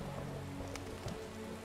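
Steady rain falling in The Witcher 1, a soft continuous patter with faint drop ticks, heard alone at low level without talk.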